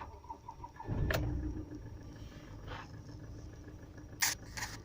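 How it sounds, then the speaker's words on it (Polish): Diesel engine of a Ford Transit mk7 2.2 TDCi cranking briefly and catching, then settling into a steady low idle close by, with a couple of sharp clicks near the end. "No i odpalił rewelacyjnie."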